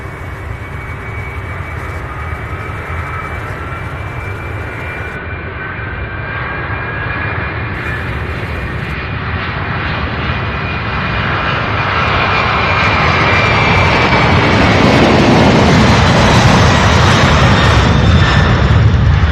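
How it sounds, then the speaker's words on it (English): A Boeing 767 jet rolls along runway 17 right at Louisville International Airport, its engine roar building steadily from a distant whine to a loud, close, sustained thunder. "And 767 heading to the end of the runway there, right here on 17 right."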